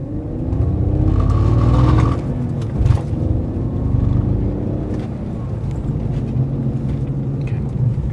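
A BMW E46 325xi with a worn driveshaft center bearing drives along, its steady engine and drivetrain drone rising briefly around mid-clip, then settling into a continuous loud rumble and whir with no talk.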